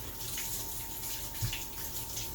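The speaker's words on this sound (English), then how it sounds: "And then you can wash your hands." Hands are washed under a running kitchen tap after mixing meatloaf, a steady close hiss of flowing water with faint splashing and no talk.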